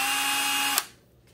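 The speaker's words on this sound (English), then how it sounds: "And then all the way up to drill, you can't hold it. It just turns." A Milwaukee M12 cordless drill/driver spins at full speed in drill mode with a loud, steady high whine that cuts off sharply and winds down to quiet.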